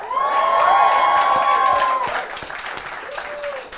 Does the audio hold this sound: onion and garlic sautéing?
no